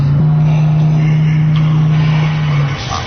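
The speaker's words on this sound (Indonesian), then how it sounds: "Aku yang berontak spontan menginjak gas mobil. Mobilku mendengung kencang." A car engine drones loudly in a horror radio drama, one sustained steady hum at constant pitch for about three seconds that fades slightly at the end, heard alone without speech.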